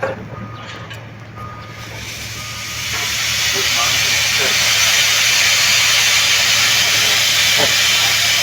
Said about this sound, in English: Slacking the brake for this man.